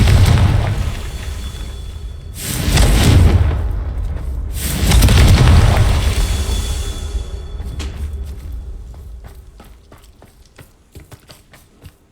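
Two heavy, booming Confringo spell explosions go off in Hogwarts Legacy a couple of seconds apart, each swelling loudly and then rolling away, followed by scattered fainter pops and crackles as the sound dies down.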